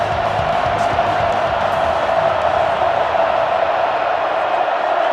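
A stadium crowd in the Madden 10 football game roars after a catch, a steady, dense mass of cheering and shouting at moderate distance with no clear breaks.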